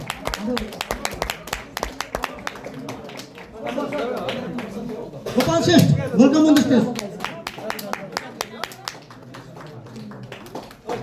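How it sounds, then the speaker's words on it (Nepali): An audience at a team event applauds as guests are called onto the stage, with scattered claps running throughout and a louder burst midway while an announcer speaks over them. "आरती सर जोरदार ताली स्वागत गरौँ"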